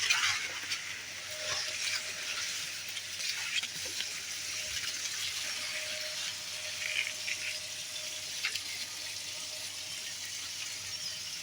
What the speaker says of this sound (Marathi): हे आपलं पाणी चालू आहे बघा